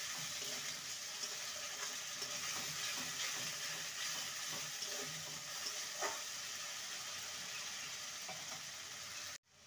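Ginger-garlic paste and a puréed tomato sauté in a pan, making a soft, continuous sizzle and bubbling hiss with faint scrapes, heard close but quiet and with no one speaking.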